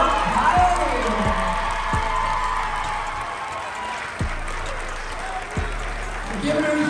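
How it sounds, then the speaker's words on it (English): Crowd at a girls' high school basketball game applauding and cheering a player's milestone, a continuous roar of clapping with whoops over a low hum, and a few heavy thuds at intervals. "We're giving her a huge round of applause to Jaliah"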